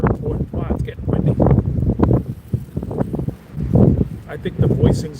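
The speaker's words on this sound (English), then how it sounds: "Wow, it's getting windy." Gusts of wind buffet the microphone beneath someone talking outdoors, a low rumbling roar rising and falling throughout.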